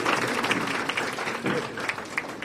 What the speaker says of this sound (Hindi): उनके लिए जोरदार तालियों के साथ स्वागत किया जाए